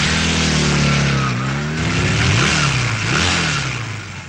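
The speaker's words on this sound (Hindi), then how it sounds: "अरे ये क्या, मोटरसाइकिल रेस क्या?" Motorcycles rev hard during a race, loud engine tones rising and falling through repeated throttle blips and gear changes, with no talking over them.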